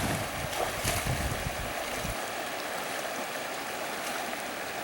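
Cold mountain stream water rushes and splashes steadily as feet are washed in it on a backpacking trip near the Maroon Bells in Colorado, a close, continuous watery hiss with a few louder sloshes early on.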